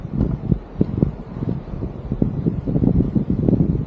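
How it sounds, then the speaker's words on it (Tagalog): Strong wind gusting at Blackhead Beach, New South Wales, buffeting the microphone in a steady low roar with repeated louder gusts, heard alone without talk. "napakalakas ng hangin doon sa taas"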